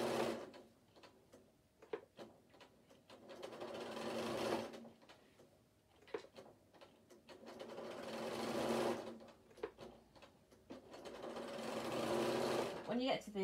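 A sewing machine stitches lining in bursts of steady, rapid whirring, pausing between runs, with quiet handling noises in the gaps.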